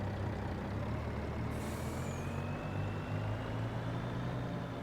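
A truck in Farming Simulator 25 drones steadily with a low engine rumble, broken by a sharp hiss of air brakes partway through, with no voices.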